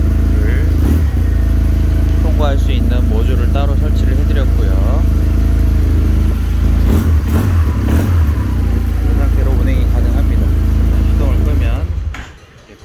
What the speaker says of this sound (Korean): 열쇠는 없는 상태인데 시동이 걸립니다.